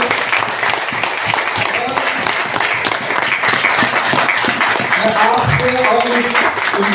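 An audience at a leadership development programme claps, a steady roar of applause filling the room with a few voices mixed in near the end.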